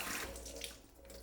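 Tap water runs and splashes in a sink while a dive mask is rinsed, a close, steady hiss with small fluctuating splashes over about a second.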